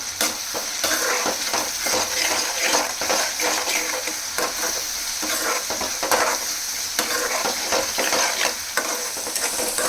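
Chili powder stirred into a sizzling frying pan for a mock liver fry, a spoon scraping and clinking steadily against the pan over continuous loud frying hiss, with no voices.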